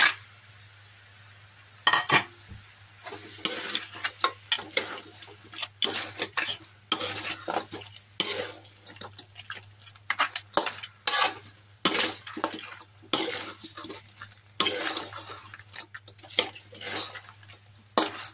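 Crab and shrimp are stirred together in a pan, with a long run of clattering utensil scrapes and knocks against the pan over a faint sizzle and a steady low hum.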